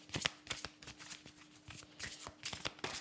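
A pile of playing cards is handled and shuffled close by, giving a quick series of soft riffling flicks and slaps in an irregular rhythm, fairly quiet, with no talking.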